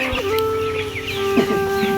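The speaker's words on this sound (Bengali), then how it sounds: "মুরগিগুলো তারা কি করতেছে" Chickens cluck and call inside a poultry farm of about two thousand birds during a power cut, overlapping close calls with a few sharper squawks and no talk.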